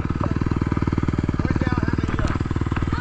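A dirt bike engine runs steadily with a rapid, even firing pulse, loud and close, while the rider holds the front brake and shifts down through first and second gear, with a voice speaking briefly over it.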